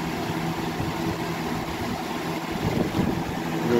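A Lakewood box fan with a brace blade runs during testing, a steady close whooshing rush of air with a low motor hum underneath, with no voices.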